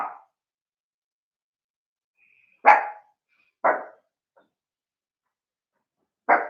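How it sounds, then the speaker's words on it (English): A dog barks outdoors during a quiet indoor exercise session, giving three separate bark bursts spaced a second or more apart, moderately loud and isolated with no talk over them. "there's another dog outside barking now"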